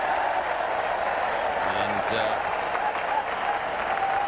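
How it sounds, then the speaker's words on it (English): A large crowd at the Gabba cricket ground roars and applauds during a Queensland versus South Australia Sheffield Shield final, a dense, sustained wash of cheering that fills the whole span, with a commentator's voice briefly cutting through. "big cheer goes up at the Gabba"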